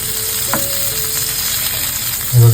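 Food roasting in a hot pan gets turned over, with a steady frying sizzle throughout, a small clatter near the start and a louder thump at the end.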